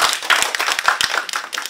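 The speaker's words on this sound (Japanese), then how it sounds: "福ちゃん拍手お願いします" Sparse, uneven hand claps from a small seminar audience in a talk-club session, a few people clapping briefly with separate sharp hits close by, no voices over them.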